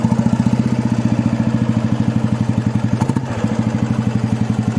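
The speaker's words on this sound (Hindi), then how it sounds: "एक नंबर भाई साउंड, रॉयल एनफील्ड, ये CI इंजन।" A 1972 Royal Enfield motorcycle with a CI engine runs close by, its thumping single-cylinder beat steady and loud with a clattering mechanical edge and no talk.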